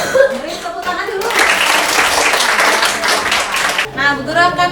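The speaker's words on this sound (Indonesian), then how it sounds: "Beri tepuk tangan dulu." A class of children applauds in a classroom, a dense burst of clapping that fills the middle of the clip, with a teacher's and children's voices before and after.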